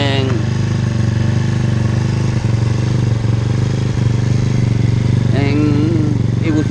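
A TaoTao Racer 50 motorcycle engine runs steadily throughout with a constant low drone and rattling clatter, fairly loud and close.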